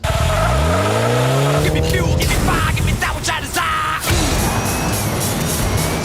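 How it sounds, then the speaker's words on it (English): Toy-sized Hot Wheels race cars tearing around a track in the Hot Wheels Unleashed video game: loud revving engines rising in pitch, squealing tires and skids, then a rushing, crashing jumble of racing noise, continuous and up front. "Hot Wheels Unleashed is the latest model pitting those pocket-sized cars against each other on the racetrack"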